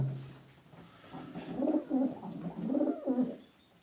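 Several flying-breed pigeons coo in a low, rolling rhythm, a series of soft throaty calls close by with a quieter pause before they start.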